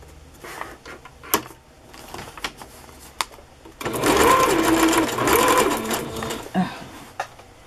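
A sewing machine stitches through paper craft pages, with scattered clicks and handling noises first, then a loud continuous whirring run of several seconds, ending with a few more clicks.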